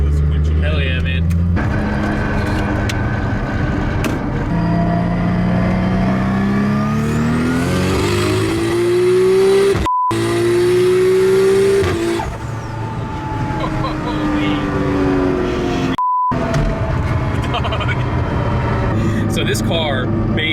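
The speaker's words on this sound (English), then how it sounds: "So this car makes so many crazy noises, makes all the right sounds" A 900HP Nissan Skyline GT-R with an AWD 2.8L stroker engine and HKS T51R turbo revs loud and close, its pitch climbing in repeated sweeps with two brief cuts of silence, while people talk over it.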